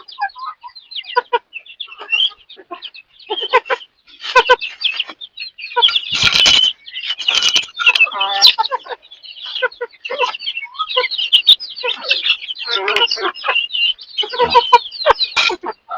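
Free-range village chickens cluck and squawk in short bursts, with occasional loud wing flapping nearby, no voices.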